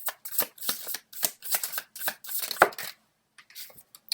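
Tarot cards riffled and shuffled by hand in quick, close bursts of papery flapping, with a few slower slides and taps as cards are drawn near the end.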